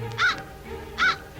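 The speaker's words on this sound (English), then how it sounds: "And here's the crow sound." Recorded crow cawing on an old nature-tour cassette, two loud harsh caws spaced under a second apart, clear and alone over a faint tape hiss.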